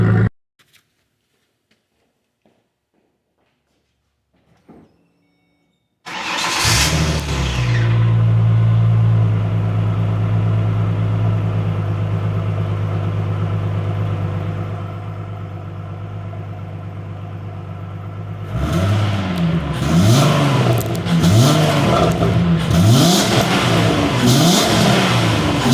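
2007 Ford Mustang V6 fitted with a junkyard muffler holding mud and dirt, starting up after silence into a loud rumbling idle, then several sharp revving blips near the end, close and raw.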